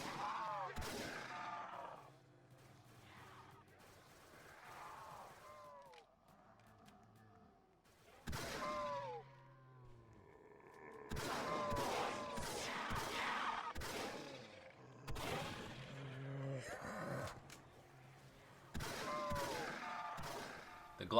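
Gunfire from a gun in the Roblox game Project Lazarus, with repeated sharp shot bursts spread across the clip, some in quick clusters, against game sounds and background noise.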